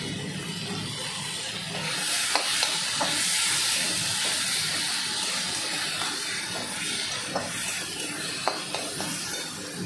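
Tomatoes with a little salt fry in a pan, giving a steady soft sizzling hiss broken by occasional clicks of a stirring spoon, close and moderate in volume.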